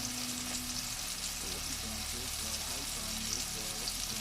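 Tuna steak sizzling in a hot pan, a steady broadband crackle with faint low hum, close and continuous throughout.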